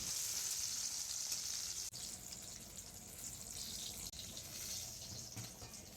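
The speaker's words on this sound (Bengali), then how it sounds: "একে একে বরবটি, পটল, করলা, আলু ও বেগুন এই 5 রকম ভাজা করে নিলাম" Beans, pointed gourd, bitter gourd, potato and eggplant fry in hot oil, giving a loud, steady bright sizzle throughout, broken by a couple of quick utensil ticks.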